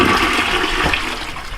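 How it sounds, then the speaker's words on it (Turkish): A household toilet flushing in a bathroom, a loud continuous rush of draining water filling the whole moment, steady and close with no talking. "bir daha sifona bastım ve şu an tamamen gitti."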